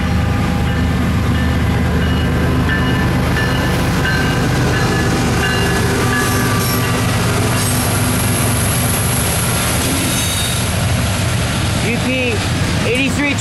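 Norfolk Southern freight train rolling past at close range, a loud continuous rumble with grinding wheel noise and faint squeals building near the end.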